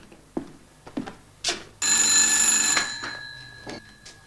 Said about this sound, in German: An einem Dienstagabend im August klingelt noch spät das Telefon.